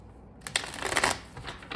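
Tarot cards shuffled in a steady flurry of papery riffles and flicks, close and fairly soft, starting after a brief quiet moment.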